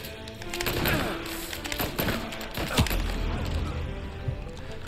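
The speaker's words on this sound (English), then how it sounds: "I'm getting shot up." Gunfire crackles through a firefight in Mafia Definitive Edition, with dense overlapping shots and sharp cracks over a constant noisy backdrop, one louder report standing out near the middle.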